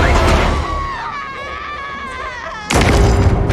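A woman's high, wavering scream rises over a dense, noisy film soundtrack, then a heavy boom-like crash cuts in as a character is thrown off a ladder between apartments in the horror film Scream 6.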